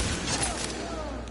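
Dense, continuous gunfire fills a firefight in the video game Tom Clancy's The Division, a steady loud barrage with no separate shots standing out and possible voices under the din.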